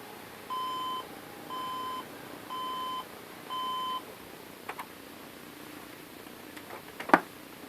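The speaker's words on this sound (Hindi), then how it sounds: "ये मेमोरी मॉड्यूल सिस्टम कबूल ही नहीं कर रहा, बीप दे रहा है" A desktop computer with a faulty RAM memory module sounds four evenly spaced electronic beeps, each about half a second long, clear and close. Faint clicks and a sharp tap follow in near silence.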